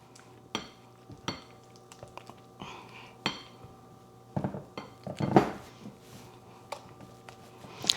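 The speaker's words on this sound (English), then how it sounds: "now we're just going to mix all of those wet ingredients together" Wet ingredients for banana cupcakes get mixed in a bowl: a series of sharp utensil clinks and knocks against the bowl at uneven intervals, with softer swishing between them, close and without speech.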